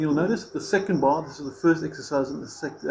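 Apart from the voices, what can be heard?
No everyday noises stand out.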